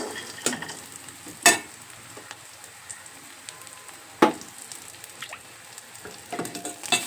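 Onions and seeds frying in a pan for gongura pickle, a steady close sizzle broken by a few sharp clinks and scrapes of stirring, with no talking.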